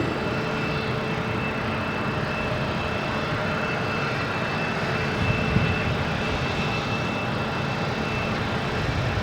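A Cape Air plane bound for Islip moves at Boston Logan International Airport, heard as a steady engine roar at moderate distance that holds nearly constant throughout, with no talking.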